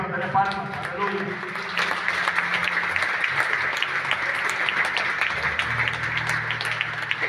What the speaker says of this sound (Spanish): Denle gloria al Señor, denle palmas, aleluya